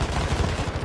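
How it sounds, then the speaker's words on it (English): Rapid bursts of gunfire from a video game battle, with soldiers holed up in a house, sound as a dense run of overlapping shots under a loud, sustained level. "I hear their shots."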